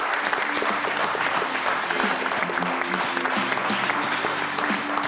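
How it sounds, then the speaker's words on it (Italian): Studio audience applauding three friends, a steady, even stretch of many hands clapping, fairly close and sustained for several seconds with faint voices mixed in. "Un applauso ai 3 amici."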